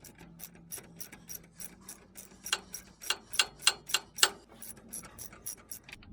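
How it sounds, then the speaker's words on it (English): A socket wrench ratchets on the old harmonic balancer of a 6.2L diesel engine, a rhythmic run of close metallic clicks that grows louder and sharper toward the middle before easing off, with no talking. "So I'm just gonna start using the socket and pulling off this old balancer."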